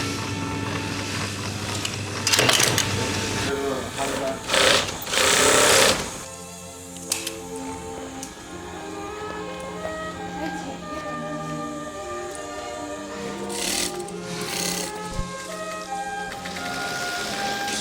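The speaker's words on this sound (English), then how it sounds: "she's beginning to sew all of the panels of the hat together" An industrial sewing machine in a Chinese hat factory stitches hat panels together in quick loud bursts over factory background noise, with a voice talking over the machine.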